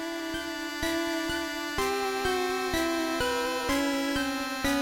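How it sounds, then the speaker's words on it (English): A theme from the Pokémon video game: thin, chiptune-style synth tones in a steady, repeating pattern of bell-like notes on a sustained drone, loud and upfront, with no voices. "it also plays this creepy song while you're in Lavender Town"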